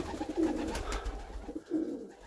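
Pigeons coo softly nearby, two low throaty calls separated by a pause over faint rustling background.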